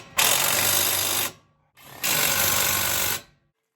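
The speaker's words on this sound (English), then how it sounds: "We're then going to install the 2 bolts and we're going to tighten them up using the rattle gun." A pneumatic rattle gun tightens brake caliper bracket bolts on a Mazda 2 in two loud, close, buzzing bursts of about a second each, separated by a brief pause.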